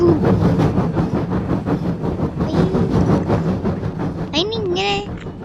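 A train passes in a car simulator video game, a steady broad rumble running through the whole stretch while people talk over it, with a brief tonal sweep near the end.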